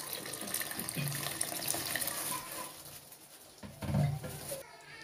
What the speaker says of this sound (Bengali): এখন দিয়ে দেবো গরম পানি